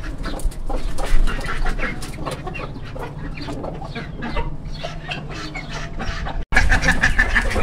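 Pet domestic birds, including a female turkey and a hen, cluck and call steadily throughout, with overlapping bird sounds close to the microphone and no talking.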